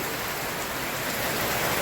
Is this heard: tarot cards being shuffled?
no